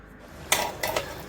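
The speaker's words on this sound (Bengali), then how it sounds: "এবার আমি এবার ঢাকনা দিয়ে দেবো" A metal lid set down onto a cooking pan while mango-oil pickle cooks, making a sharp clatter followed by a second lighter clink, close by with no talk.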